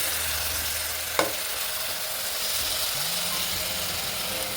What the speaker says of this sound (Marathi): छान परतून परतून घ्यायचे